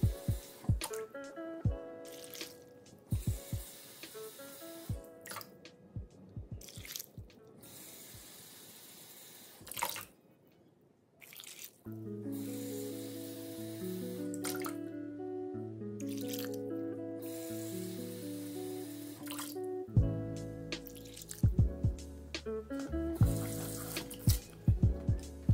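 Water splashes and drips into a pot of potato slices with running, tap-like flow and small sloshing sounds, fairly close, no talking.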